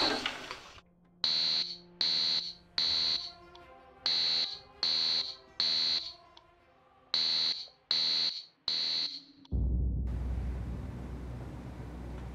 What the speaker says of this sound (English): Didn't you hear the alarm?